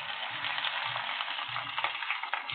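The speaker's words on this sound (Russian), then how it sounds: "Дальше будем жарить лучок." Onions sizzle steadily in a hot frying pan, a close, crackling hiss with occasional stirring scrapes.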